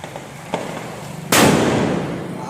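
A Diwali vankaya bomb (eggplant-shaped firecracker) bursts at home with a loud sharp crack, followed by a long crackling hiss. Smaller pops come just before it.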